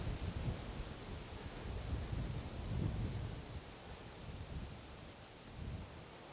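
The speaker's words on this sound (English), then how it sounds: "It's a bit breezy." Steady breeze blowing outdoors, a broad rushing wind noise buffeting the microphone in slow gusts that swell and ease throughout, with no voices.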